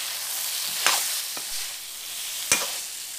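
Pointed gourd pieces sizzle quietly in a frying pan with salt, while a spatula scrapes through them in two sharp strokes and a lighter one between.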